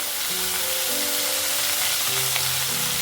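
Fish pieces fry one by one in hot white cooking oil, giving a steady, close, even sizzle with a brief crackle near the end and no voices over it.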